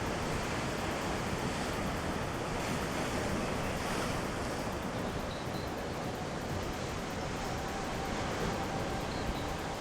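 Ocean waves washing against a rocky South African coastline, a steady, dense roar of surf with some wind buffeting the microphone, continuous and fairly distant with no voices.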